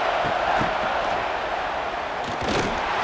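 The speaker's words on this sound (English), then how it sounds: "the crowd really making some noise now, trying to help out this defense" A steady roar of a large stadium crowd in a college football video game, South Carolina vs. Clemson, broad and continuous, with a few louder swells of yelling rising out of the wash near the goal line.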